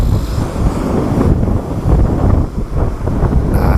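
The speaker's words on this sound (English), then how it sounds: "the waves are crashing." Waves crash and surge on Pakefield beach in Suffolk, a loud, steady wash of surf heavily buffeted by wind rumbling across the microphone, with no voices.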